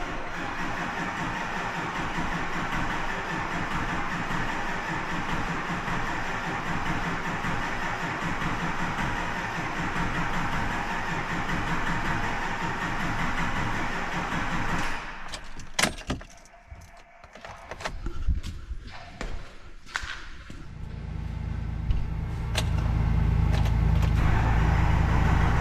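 A new GM Duramax diesel long block being cranked over without firing, a steady starter-driven churn lasting about fifteen seconds, then stopping amid clunks and handling noises before a loud low rumble takes over.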